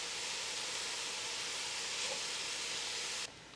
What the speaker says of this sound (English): I'm gonna let this ground beef brown for just a few minutes